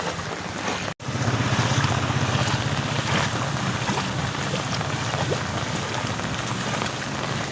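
Heavy rain and gusting wind from Typhoon Crising roar in a dense, steady wash of noise, close and loud throughout, with a brief dropout near the start and no talking.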